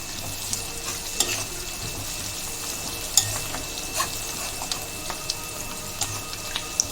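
Curry with turmeric is stirred in a wide pan, giving a continuous low sizzle with scattered scraping clicks and taps as a utensil moves through it, no voices present.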